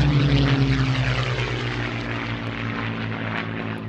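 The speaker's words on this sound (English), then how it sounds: "As the Gladiator comes in, you can see the lowered flaps on both the lower and the upper wings" A Gloster Gladiator biplane comes in to land on a runway, its propeller engine droning steadily and fairly close, with a strong low hum that eases slightly as it passes.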